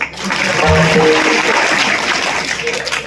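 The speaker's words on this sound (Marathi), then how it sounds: "एका टाळ्या वाजव" Audience at a Marathi kirtan clapping together: a dense, continuous wash of claps that holds for about three seconds, with some voices mixed in.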